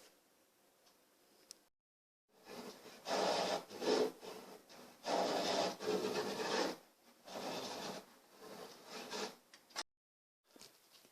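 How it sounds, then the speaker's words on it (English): A dovetail saw cutting fret slots into a guitar neck for a Gibson-model build: loud, close rasping strokes in several bursts of rhythmic back-and-forth sawing, separated by short pauses and silences. "I'm just using a dovetail saw to cut the fret slots"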